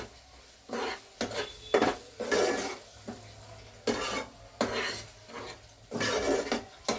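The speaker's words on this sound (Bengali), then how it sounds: "এটাও আবার এর সাথে ভালো করে মিশিয়ে ভালো করে কষে নিতে হবে।" Cauliflower korma being stirred and fried in a pan, repeated bursts of spoon scraping against metal with light sizzling between strokes, close up and without talk.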